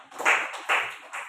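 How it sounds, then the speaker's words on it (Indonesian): An audience claps in three short bursts at an indoor classroom-style event, applause swelling and easing between each round, fairly close and moderately loud. "Beri tepuk tangan dulu."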